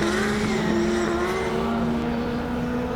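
An 1100-horsepower drift car slides with the handbrake pulled during a drifting championship qualifying run at Hampton Downs Motorsport Park, giving a loud, continuous engine roar with a steady high drone and tyre noise throughout.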